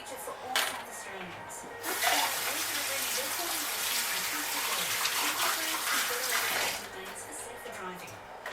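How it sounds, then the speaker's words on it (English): Tap water runs steadily while hands are washed at a kitchen sink during sausage roll preparation, a loud broad gush lasting several seconds that stops near the end, with faint splashing before and after. "Wash your hands quickly."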